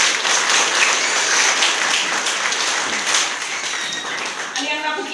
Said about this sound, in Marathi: त्यांच्यासाठी एकदा जोरदार टाळ्या होईल.